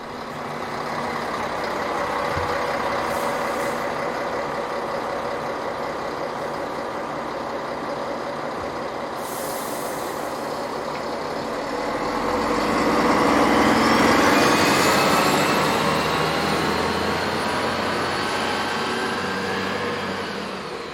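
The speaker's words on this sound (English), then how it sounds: "Here, one of their Regio Shuttle diesel rail cars calls with a service from Mirana to" A Regio Shuttle diesel railcar of Citybahn Chemnitz calls at a station with a loud, steady engine drone that swells midway, as a rising mechanical whine climbs above the rumble and then settles.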